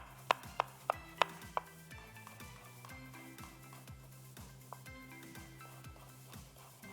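Green chilli and garlic being chopped with a knife on a board, four or five crisp knocks in a quick even rhythm before stopping, close and clear over quiet background music.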